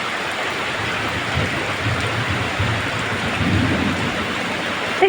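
Steady rain pours down with a constant hiss, and low rumbling swells underneath throughout.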